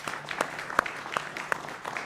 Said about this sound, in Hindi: मुझे लगता है न्यायालय के लिए एक ताली बनती है